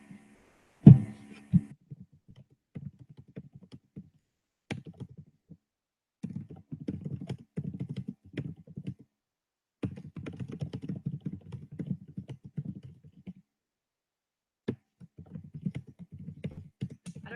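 Someone types on a computer keyboard in bursts of close, soft key clatter with short pauses between runs and one louder thump near the start. No one talks.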